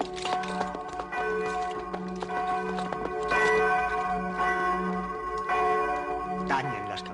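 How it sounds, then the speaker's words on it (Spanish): Church bells of San Pedro tolling in a slow, steady ringing, loud and sustained with repeated strikes and long ringing overtones throughout. "Tañen las campanas en San Pedro a clamor."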